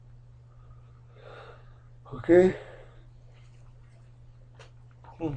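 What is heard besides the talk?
yawn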